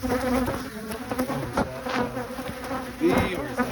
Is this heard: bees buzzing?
yes